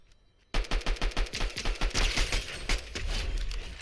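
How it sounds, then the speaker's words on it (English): Rapid pistol gunfire in Fortnite no-build mode, a fast burst of loud, closely spaced shots starting abruptly after a short quiet lead-in and continuing in a dense volley. "the pistol is absolutely nuts in this game"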